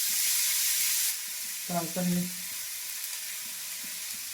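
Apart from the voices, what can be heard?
vegetables frying in oil with spices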